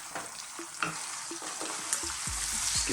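Spaghetti puttanesca sauce with capers and dried chili flakes sizzling gently in a pan on low heat, with a utensil stirring and scraping in short, repeated strokes close by.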